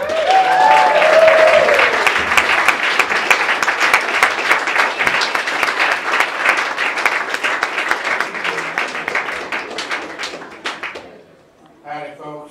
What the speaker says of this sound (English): Please give a big round of applause for Pop Haydn.